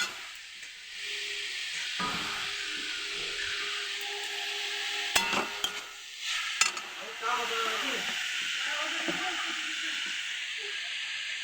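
Chow mein noodles stirred in a hot pan give a continuous hissing sizzle with occasional scraping and clanks of the utensil, fairly close and steady.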